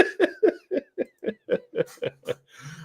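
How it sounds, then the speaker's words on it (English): A man clears his throat at a live beer-show stream, a run of about ten short, evenly spaced guttural coughing bursts, close and fairly loud, ending in a softer rasp. "let me clear my throat."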